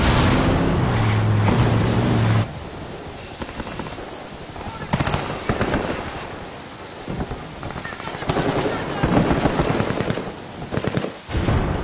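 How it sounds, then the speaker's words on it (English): Gunfight in the video game Ghost Recon Wildlands between rebels and Santa Blanca cartel forces at a camp: bursts of automatic gunfire and heavy booms crackle throughout, loud and dense, with a low hum under the opening seconds and no speech. "This camp is now erupting into a full gunfight between the rebels and the Santa Blanca."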